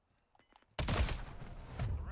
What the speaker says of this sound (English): There's no way he hit me with the shotgun.